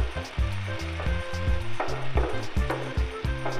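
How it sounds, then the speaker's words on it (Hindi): Finely chopped medium onion frying with soybeans in a pan, a steady close sizzle with regular rhythmic stirring scrapes throughout, no talking. "प्याज डालने के बाद में भी भून लेंगे"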